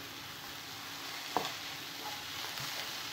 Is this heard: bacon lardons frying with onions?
yes